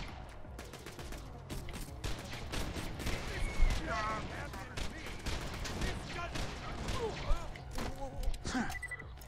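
Rapid revolver-style gunshots in the Borderlands 2 video game, a dense run of sharp cracks and thumps close up, with game effects and chatter layered underneath throughout.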